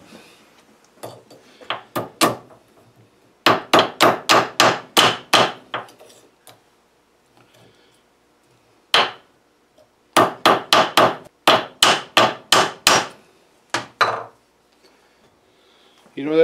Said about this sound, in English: Might need to hit this with the hammer a little bit.